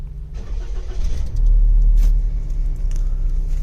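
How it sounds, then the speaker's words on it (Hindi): A 2019 Suzuki Wagon R 660cc semi-hybrid engine cranks and catches, a short churn rising into a deep, close rumble that settles into a steady idle. "सो अभी हम करते हैं इसको स्टार्ट और ऑब्जर्व करते हैं इसकी स्टार्टिंग कंडीशन को।"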